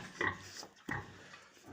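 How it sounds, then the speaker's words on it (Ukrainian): Pigs grunt softly close by, two rough snorts about half a second apart, with faint rustling and low noise between them. "Так, ось такі наші свинки."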